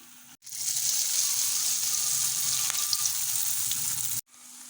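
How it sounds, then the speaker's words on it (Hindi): Spinach pakoras deep frying in hot oil over a medium flame, a steady close bubbling sizzle that runs unbroken, with no talk over it. "इन पकौड़ों को तकरीबन आपने मीडियम फ्लेम में इसको फ्राई करना है।"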